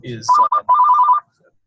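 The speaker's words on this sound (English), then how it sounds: "phone ringing." A telephone rings in a loud, close burst of warbling electronic tones with a short gap in the middle, following a brief spoken sound, then cuts off into silence.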